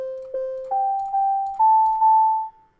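A steady sequence of six synthetic Windows API beep notes climbing in pitch in pairs, each tone sustained and decaying, clear and alone.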